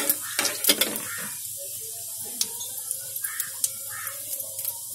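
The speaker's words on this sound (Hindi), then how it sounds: "तेल को अच्छी तरह से गरम कर लें, और फिर उसमें हमें जीरा ऐड करना है।" Cumin seeds sizzling in hot oil in a cooking pot, a loud steady hiss and crackle close up, with a few light metallic stirring clinks over it.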